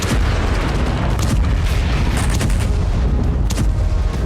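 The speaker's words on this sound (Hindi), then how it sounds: "अमेरिकी गाइडेड बम के सटीक निशाने से यूक्रेन ने पूरी इमारत को उड़ा दिया।" A US guided bomb strikes a building in the Ukraine war, heard as a continuous loud roar of blast and rumble with several sharper bursts cutting through.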